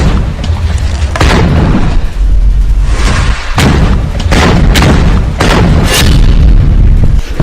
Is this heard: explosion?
yes